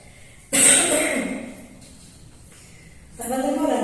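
A woman coughs while giving a lecture: one sharp, close burst of coughing that trails off, then a quieter pause before a second harsh cough.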